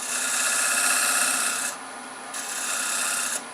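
A small V scraper cuts a bead into the rim of a Bradford pear bowl spinning on a wood lathe. Two close, loud bursts of dry rasping scraping are split by a short quieter pause.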